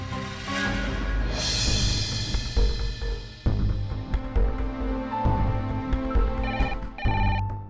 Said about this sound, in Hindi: देख बेटा फोन